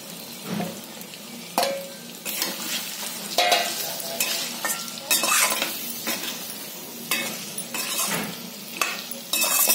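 Potatoes tossed into hot oil with asafoetida and chili powder for dum aloo, sizzling steadily while a spoon scrapes and clinks against the pan in repeated stirring strokes, close and moderately loud.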